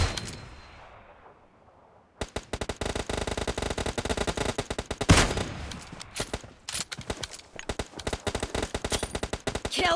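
Video game gunfire in PUBG: after a quiet start, dense rapid bursts of automatic fire crackle continuously with sharp, loud reports and brief pauses between volleys.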